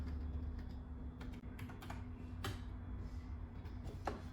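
Typing on a BAIHUAFRU small wireless iPad keyboard set on a laptop, quiet irregular key clicks in short bursts with a few sharper taps, faint and close over a low steady hum.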